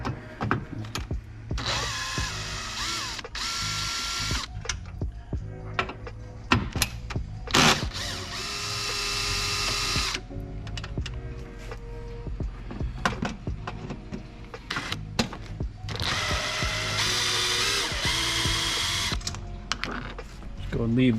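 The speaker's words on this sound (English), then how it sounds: "Now we're going to go ahead and pull these bolts out" Ratchet loosening cross member bolts under an Audi Q7 during an at-home oil change, with bursts of fast ratcheting clicks and mechanical rattles between pauses, close by, under intermittent talk.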